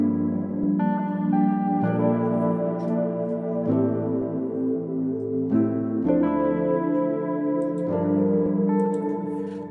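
Keyscape cinematic piano preset playing sustained, reverberant chords that change every couple of seconds, alone and steady in level with no voices.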